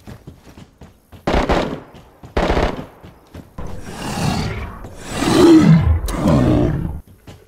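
Bursts of automatic gunfire ring out in the survival game DayZ, two short rapid volleys followed by louder, longer roaring bursts that swell and fade, close and loud with no talking.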